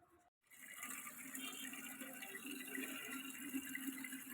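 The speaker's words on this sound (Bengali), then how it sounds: "জল দিয়ে দিই আগে, তারপরে কথা হবে তোমাদের সাথে" Water splashing steadily onto dried-out chili plants on a sunny, shadeless rooftop, a continuous soft pour that starts after a short pause, fairly quiet and close.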